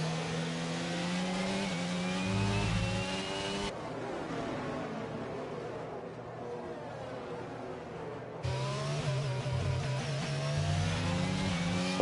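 Onboard race car engine in an F1 video game at the Spain round, a loud steady high-pitched whine with rising gear sweeps, briefly dropping in level mid-run before surging back.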